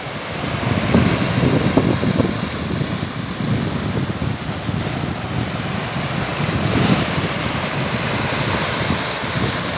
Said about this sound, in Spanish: Como dicen ustedes, el sonido del mar.